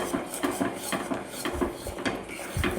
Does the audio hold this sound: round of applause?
no